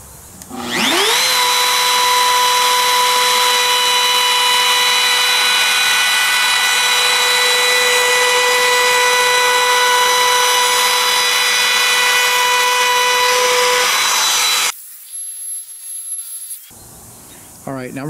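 A power tool with a router-style bit cuts a hole in a wooden speaker box, a loud steady high-pitched whine running about fourteen seconds before cutting off abruptly, followed by quieter handling noise.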